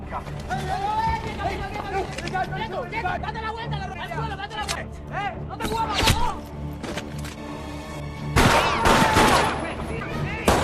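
Gunfire bursts in a film shootout with police, several sharp volleys cracking out over background voices and commotion, the heaviest bursts near the end.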